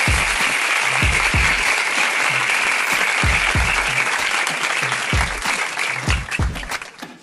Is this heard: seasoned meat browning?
no